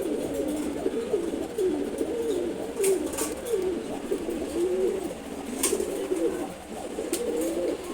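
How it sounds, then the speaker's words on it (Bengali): A pair of khaki pigeons coo nearby in repeated soft, throaty phrases at a steady pace, with a few sharp clicks and rustles breaking in between. "এটা খুবই ফ্রেন্ডলি কবুতর কাকি কবুতরগুলো"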